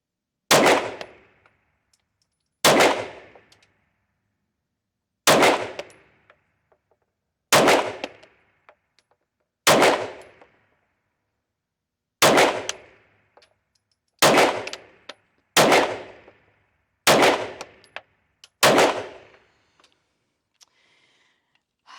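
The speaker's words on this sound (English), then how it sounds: "We're going to do a little more shooting." Ten single shots from an Arex Alpha 9mm competition pistol crack loudly and nearby, each followed by a short ringing decay, spaced a couple of seconds apart and then quicker toward the end, with no talking.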